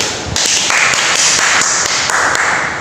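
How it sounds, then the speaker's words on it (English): A classroom of students clapping together, a loud, dense wash of applause that holds steady for the whole stretch before tapering slightly at the end. "Now let's get a round of applause to everybody."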